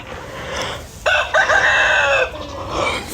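An eight-month-old Lakha rooster, a young aseel-type bird, crows once loudly and close by, a strained mid-length call rising and holding, with softer clucking before and after.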